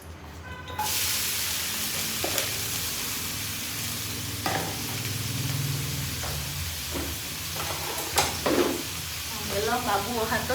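Onion, tomato and prawn biryani ingredients sizzle steadily in a hot pan throughout, with scraping spoon strokes and clinks of stirring breaking in now and then, close and continuous.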